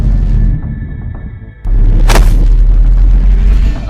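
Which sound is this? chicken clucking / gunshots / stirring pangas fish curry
gunshots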